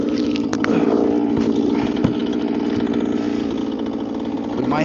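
A Husqvarna chainsaw runs steadily for several seconds while logs are cut, its engine droning loud and close with no pauses, and a few sharp clicks and knocks rise above it.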